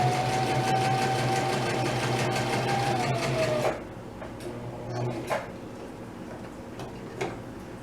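A home sewing machine stitching fabric runs with a steady mechanical whir for a few seconds, then stops, leaving faint ticks and light handling clicks close by.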